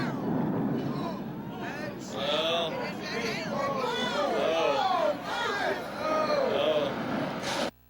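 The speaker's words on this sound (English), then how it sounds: "let me play this explosion again, and I want to hear these groans" Crowd reacting with rising groans and murmurs during a smokestack implosion, a continuous mass of many voices swelling and falling over several seconds, with no distinct blast standing out.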